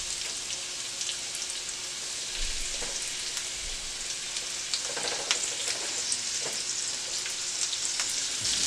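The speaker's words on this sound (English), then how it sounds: "Start placing our shrimps in there." Shrimp sizzle steadily in a hot pan with garlic, a dense, continuous crackle with scattered pops, loud and close, with no voices over it.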